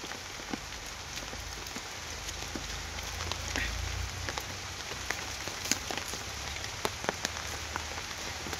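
Steady daytime rain falling outdoors around a home garden, a constant patter with scattered louder drips hitting nearby surfaces, no voices.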